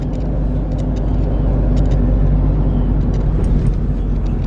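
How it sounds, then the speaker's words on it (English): A bus drives slowly ahead on a country road, heard as a steady, loud low engine rumble with road noise from a following vehicle, continuous throughout and without speech. "Got this bus keeping us nice and slow"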